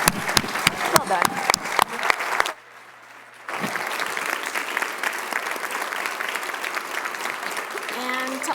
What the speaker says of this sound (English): I just want to give a huge round of applause to our panelists, Nona and Kate and Crista